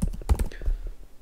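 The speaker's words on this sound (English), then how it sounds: "You do have to confirm the deletion by typing in the name of your repository" Someone types on a computer keyboard to confirm deleting a Docker Hub repository, producing a quick, close burst of crisp key clicks that thins out into a few scattered taps.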